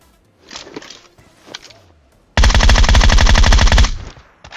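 Groza assault rifle fire in PUBG: one loud, rapid burst of automatic shots lasting over a second, preceded by faint footsteps and quiet background sounds.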